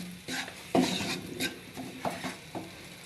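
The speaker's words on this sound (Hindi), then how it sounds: "ये थोड़ा सा ऑयल लेके इसमें मैदा मिक्स किया" A spoon scrapes and stirs flour into a little oil in a pan for a sauce, giving soft, close, irregular scraping strokes with faint sizzling underneath.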